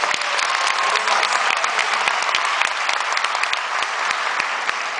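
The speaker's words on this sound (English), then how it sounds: "Everybody give him a round of applause." Steady, dense applause from a live audience at a juggling show, close and sustained for the whole stretch with scattered sharper individual claps and no talk over it.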